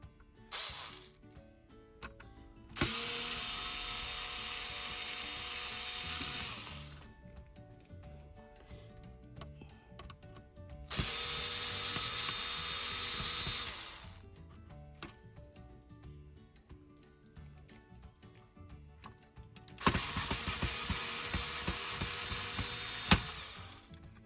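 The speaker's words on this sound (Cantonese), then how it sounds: "跟住就拆呢啲螺絲啦" Screws come out of an Asus RT-AC88U router by hand. Quiet ticking and small mechanical clicks sit between three loud, steady stretches of broadband noise, each lasting several seconds, with no speech.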